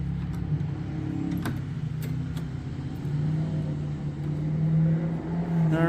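Honda HRM215 lawn mower engine idling steadily after a carburetor replacement, a constant low drone with faint mechanical clatter, moderately close and uninterrupted.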